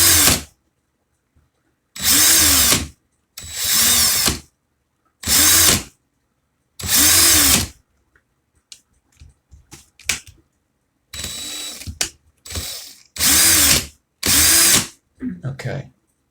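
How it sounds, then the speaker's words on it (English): A power drill runs in reverse, loosening razor wire in a series of loud, close whirring bursts of about a second each, separated by pauses with faint clicks and handling sounds. "I'm going to put the drill in reverse and loosen this up a bit."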